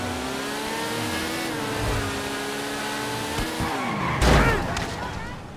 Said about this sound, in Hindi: क्या बाइक चल रही है